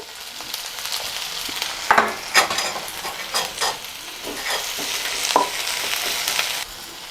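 Sliced onion sautés in leftover oil in a pan for egg biryani, a steady sizzle broken by scraping stirs and clinks of a spoon, close and moderately loud with no talking.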